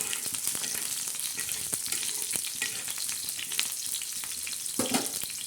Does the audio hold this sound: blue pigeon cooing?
no